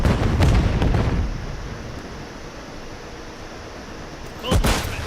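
A grenade blast and gunfire in a shooter video game: a loud burst opens, a dull rumbling tail follows, then a second sharp blast lands near the end.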